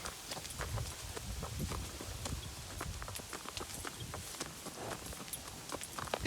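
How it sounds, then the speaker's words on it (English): Hooves clopping steadily on ground, a continuous irregular patter of several horses walking, fairly close amid outdoor noise. "there's horses behind us somewhere."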